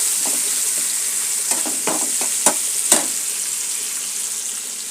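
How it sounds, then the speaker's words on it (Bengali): Spiced food fries in a hot pan, giving a steady close sizzle. A few sharp clicks and scrapes of stirring break through it, and no one talks. "এখন তো মশলা দেওয়া হয়ে গেছে, ভাজিটা করে নিচ্ছি।"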